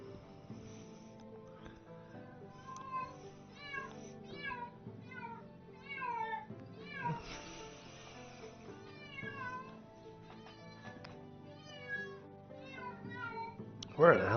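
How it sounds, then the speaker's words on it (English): A cat meows over and over, a string of distinct rising calls from a room nearby with a slight echo, alongside steady game music and a voice at the very end. "Where the hell is that cat now?"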